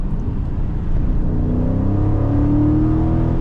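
A 2023 Dodge Charger Scat Pack Widebody's engine rumbles loud and close while driving on the street with windows down, its pitch climbing steadily in one sustained rev, with no talking.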